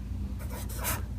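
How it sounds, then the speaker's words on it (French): Marker strokes on a classroom board during a French–Arabic language lesson: two or three short, dry squeaky swipes, close and moderately loud over a low room hum, with no talking. "je vais éviter d'écrire trop bas"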